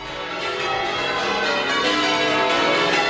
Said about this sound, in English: they are the bells of St Peter Mancroft